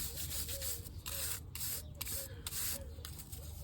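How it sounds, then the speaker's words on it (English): Nylon brush quickly scrubbing the rear brake parts of a Yamaha FJR motorcycle, close bursts of bristly rubbing strokes with brief pauses between them, no voices. "Quick nylon brush."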